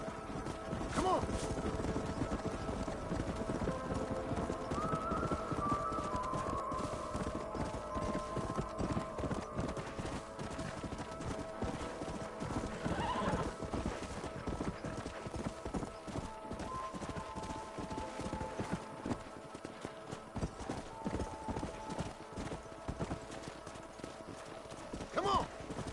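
Horses gallop in Red Dead Redemption 2, a dense rapid clip-clop of many hooves running steadily throughout with occasional whinnies, under game dialogue and ambient noise.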